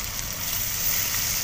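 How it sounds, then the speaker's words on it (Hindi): Ginger-garlic paste sizzling steadily in a pan while cooking for an aloo chole pulao, a close, even frying hiss with a small clink right at the end. "अदरक और लहसुन का पेस्ट डालने के बाद अब हम इसे तब तक भूनेंगे जब तक इसका कच्चापन ख़त्म नहीं हो जाता"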